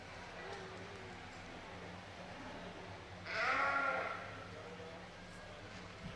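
A single sheep bleats once at the 2020 Aksarben Stock Show, a short, moderately loud call rising over the low hum and murmur of an indoor livestock arena.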